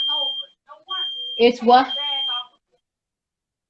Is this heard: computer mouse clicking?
no